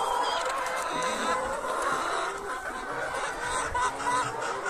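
Many young laying hens cluck and squawk continuously in a busy egg-production coop, close and overlapping, with no clear gaps.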